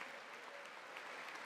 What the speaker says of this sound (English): there's like 3 Democrats that are clapping to that